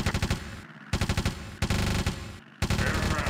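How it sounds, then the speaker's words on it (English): Anti-aircraft machine guns firing at an enemy plane from an Imperial Japanese Navy ship, loud rapid bursts of shots in three long strings separated by brief pauses. "Enemy plane in sight. Open fire. Let him have it."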